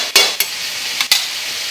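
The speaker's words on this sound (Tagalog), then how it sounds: "Nilagay ko na yung ating bawang sibuyas." Garlic and onion sautéing in a pan for ginataang kamansi, with a few short scraping stirs of a utensil against the pan over a soft, steady sizzle, close by.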